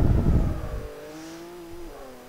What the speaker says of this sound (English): Having finally figured out how to launch the car, Stig lined up to have another go.